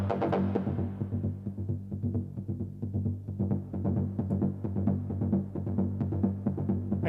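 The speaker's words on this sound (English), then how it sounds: "it's just like a detune kind of sawtooth sound" A detuned sawtooth bass synth preset plays a continuous, throbbing stereo line with a rapid pulsing rhythm and steady low drone, loud and unaccompanied by talk.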